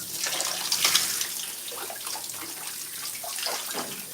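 Water running from a tap while hair product is rinsed out, a steady close splashing and gushing with irregular spatter, loud and continuous, no voices.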